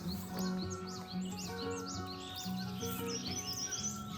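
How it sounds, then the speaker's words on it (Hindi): Birds chirp and sing on a Himalayan hill trail in the morning, several overlapping calls and repeated tweets, clear and moderately close against a steady outdoor hum, with no voices. "चिड़ियाओं की चहचहाहट है कितनी साफ सुनाई दे रही है"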